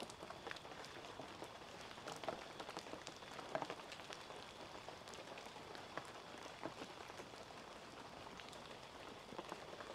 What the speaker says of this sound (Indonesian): benar nih sepertinya ini hujan buatan Mas Angga